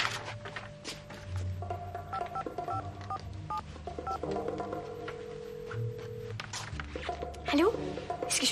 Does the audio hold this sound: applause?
no